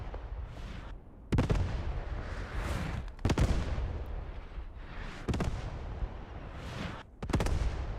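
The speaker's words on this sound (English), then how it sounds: "Artillery, Allied artillery on the bridge." Artillery fire in the WWII shooter Post Scriptum during a Market Garden bridge battle: four heavy booms at regular intervals, each with a sharp onset, over a continuous low, rumbling battlefield din.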